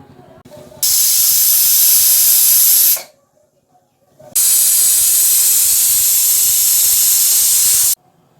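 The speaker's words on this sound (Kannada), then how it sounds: "2 ವಿಸಲ್ ಕೂಗಿಸ್ದೆ ರೆಡಿ ಆಗುತ್ತೆ." A pressure cooker cooking mushroom pulao lets out two long loud bursts of whistling, hissing steam, each lasting a couple of seconds and separated by a short quiet gap.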